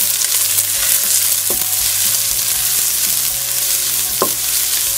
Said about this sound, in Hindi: प्याज को भी हल्का सा गोल्डन कलर आने तक फ्राई कर लेंगे।